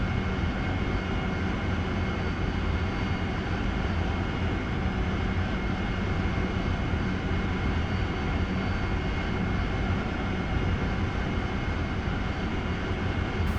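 A Harrier jet in the DCS flight simulator game in an idle descent toward HMS Hermes, its engine a steady, loud broadband roar and rumble that holds evenly throughout with no speech.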